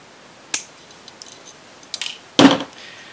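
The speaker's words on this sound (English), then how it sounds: "I think I'll cut the tie wrap off" Cutters snip through a plastic tie wrap on a PLC trainer kit's bundled wiring, making a few sharp, close clicks and snaps spaced apart in otherwise quiet surroundings.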